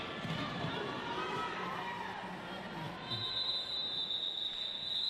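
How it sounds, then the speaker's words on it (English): At a roller derby game, a large indoor crowd cheers in a broad, steady wash of voices and whistles, moderately distant and sustained, with a high whistle-like tone rising near the end. "And a cheer goes up from the crowd."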